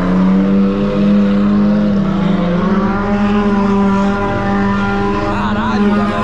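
A Volkswagen Up GTI revs hard while spinning its tires in place, a loud, steady engine roar with a rising whine and grinding undertone that holds throughout.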